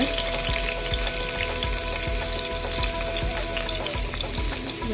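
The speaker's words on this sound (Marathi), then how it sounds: "असं तेल तापत ठेवलं आणि त्या तेलात आता लसणी टाकतो" Garlic frying in hot oil for a soya vegetable dish, a steady close, dense sizzle with soft stirring clicks throughout, no talking.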